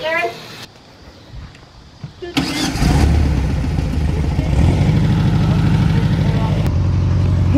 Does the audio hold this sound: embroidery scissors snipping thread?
no